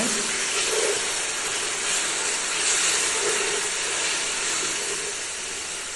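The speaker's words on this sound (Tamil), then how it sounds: "இதை போட்டு நல்லா வதக்கிட்டு பச்சை ஸ்மெல் போகிற வரைக்கும் வதக்கணும்" Ingredients, including garlic paste, sizzle and sauté in a pan for chicken biryani with a loud, steady, close hiss that holds throughout and fades slightly toward the end.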